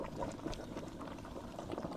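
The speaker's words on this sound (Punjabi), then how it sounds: "ਜ਼ਬਰਦਸਤ ਉਬਾਲਾ ਆ ਰਿਹਾ, ਪੱਕ ਰਿਹਾ।" Medicinal syrup made from banyan boiling hard in a pot, a dense, bubbling, gurgling churn heard up close for a couple of seconds, fairly quiet and steady with no speech.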